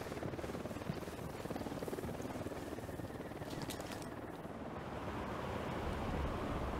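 Helicopter flying in the video game Ghost Recon Wildlands, a loud, continuous rotor thrum with rumbling wind-like noise that stays steady and close throughout.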